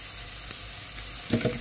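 Onions with green chilli powder and salt frying in a pan as prawn samosa filling is prepared, a soft steady sizzle ending in a brief burst of stirring scrapes.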